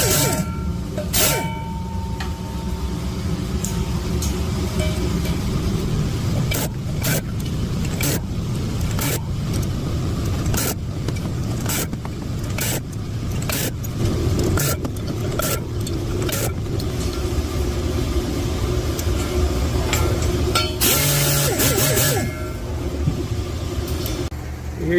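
A stone grinds the exhaust valve seats of a Toyota 4.5 cylinder head, a steady motorized whir broken by repeated short bursts as the grinder starts and stops.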